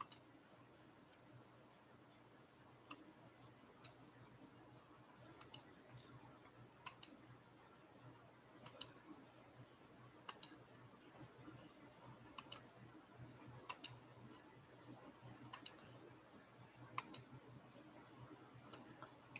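Computer mouse clicking while spreadsheets are opened: sharp, isolated clicks arrive every second or two over about twenty seconds, each crisp and close, above a faint steady room hum with no talking.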